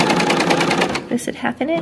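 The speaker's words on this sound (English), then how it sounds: "I'm just serging" A serger sewing machine trims the edge of fabric for swim trunks, a fast, steady, close mechanical whir that stops partway through. A voice talks over the end.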